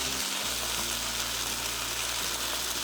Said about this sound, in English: Be careful, do not break the sardines. You want to keep them whole. Fry this for another minute.